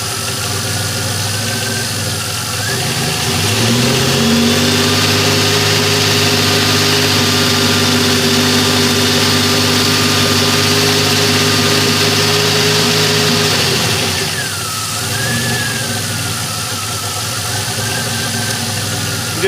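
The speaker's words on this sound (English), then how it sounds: "I've just done a lot of work on the engine, and it just kind of runs a little lumpy" A DeLorean engine idles a little lumpy after recent engine work, during control pressure and dwell testing. It is a loud, close, steady drone with a whining squeal that rises and holds through the middle, and no one speaks.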